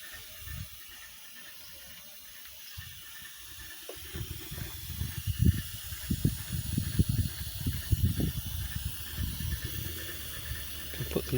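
Steam hisses from the boiler of a coal-fired Quarry Hunslet locomotive, starting faint and then rising into a louder, uneven sputtering rush with bursts and gurgles over the final seconds, with no talking.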